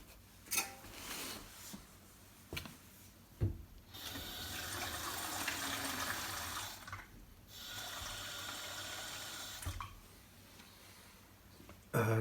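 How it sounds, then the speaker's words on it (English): Water pours into a mortar mix for a small wood- or charcoal-fired pizza oven floor, a steady splashing flow in two longer pours with brief knocks and pauses between. "Now I will add the water, very little."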